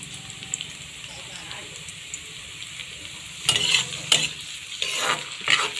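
Garlic and onion sauté in a pan as fish sauce goes in, a steady soft sizzle that swells into loud bursts of stirring and scraping toward the end, close up.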